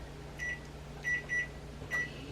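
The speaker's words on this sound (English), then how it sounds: "Now, I microwave it for a minute in my microwave." A kitchen microwave oven hums steadily on high while melting chocolate, with a low constant drone and a few short electronic tones rising above it.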